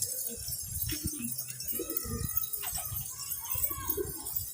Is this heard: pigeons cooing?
yes